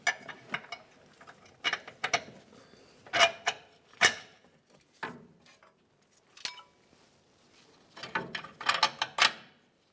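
Mounting bolts are tightened on an upper control arm of a 2005-2010 Dodge Dakota, giving scattered close metallic clicks and ratcheting bursts separated by short pauses.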